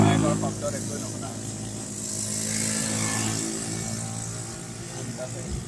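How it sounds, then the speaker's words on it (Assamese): A motorcycle engine drones steadily as it passes along a road, a broad rumbling hum that swells and fades slightly, with someone talking over it. "বাইকৰ শব্দত একোৱে নুশুনা"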